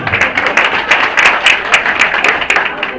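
Crowd at a political rally in Yenişehir, Mersin applauding loudly, dense continuous clapping with rhythmic surges, heard alone without talk.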